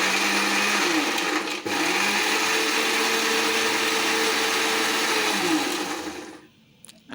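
Kitchen mixer grinder blending chikoo (sapota) fruit into juice: a loud, steady whirring motor drone that runs for about six seconds, then winds down and cuts off.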